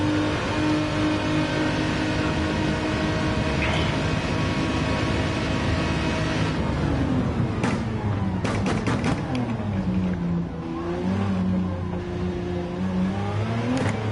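Gr3 race cars battling in a slipstream at Monza in Gran Turismo 7, engines droning loud and steady with rising and falling pitch as the cars trade places, plus sharp clicks of gear shifts partway through.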